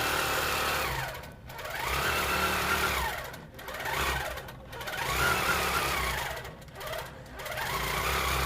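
A Pro-Stitcher computerized quilting machine stitches an edge-to-edge design in a steady, close mechanical whir, with several brief pauses and dips in intensity as the head changes direction.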